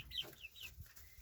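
Faverolles and Barnevelder cockerels cluck nearby, several short soft clucks and chirps in quick succession, faint but clear.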